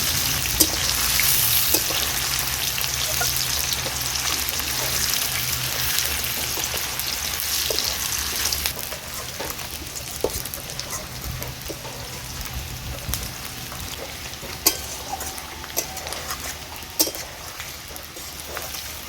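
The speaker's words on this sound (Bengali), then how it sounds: "তেল গরম হয়ে গিয়েছে, দিয়ে দিচ্ছি গোটা গরম মশলা, দিয়ে দেব পেঁয়াজ কুচি।" Whole garam masala and chopped onion fry in hot oil for a katla kalia, giving a steady, close sizzle that runs throughout with scattered pops and crackles, slightly quieter in the second half.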